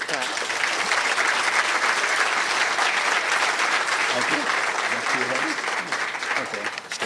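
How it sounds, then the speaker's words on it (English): Full room applause at a convention banquet, a steady wash of clapping from many hands, with a voice speaking briefly over it near the end. "Can all clap."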